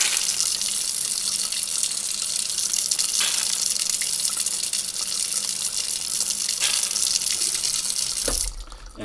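Water forced through the fuel passage of a 1920s Akron 103 antique lantern during restoration, a steady close hiss and spray that runs unbroken for about eight seconds before cutting off near the end.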